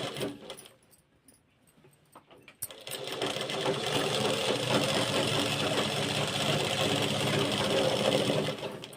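Sewing machine stitching cloth with a reverse stitch, a quiet start with light handling clicks, then a continuous close whirring run of rapid needle strokes.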